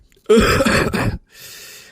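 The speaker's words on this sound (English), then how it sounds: "it sounds like I smoke when I cough" A single harsh, throaty cough burst close to the mic, followed by a softer, breathy exhale.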